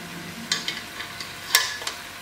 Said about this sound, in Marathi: हांव तितून न्हू मातशें ते थोडे उरले आमचे हे घालता न्हू पास्ता आनी मिक्स करता